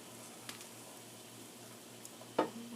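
Eggs for breakfast burritos cooking in a pan, a soft, steady sizzle at low level with a couple of faint scrapes and one louder clatter of the pan near the end.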